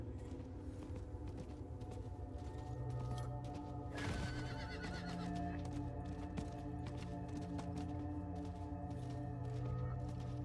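In the video game Diablo 4, a horse whinnies over a steady rhythm of clip-clopping hooves, with a loud neigh partway through and continuous hoofbeats throughout.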